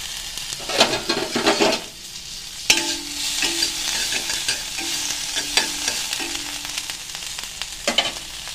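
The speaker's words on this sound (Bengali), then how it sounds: "একটু পেঁয়াজ কুচি দিয়ে দিলাম" Chopped onion frying with mustard seeds in a pan with a small knob of butter for a chicken salad. A soft sizzle runs under bursts of brisk stirring and clattering scrapes, close and moderately loud, with no speech.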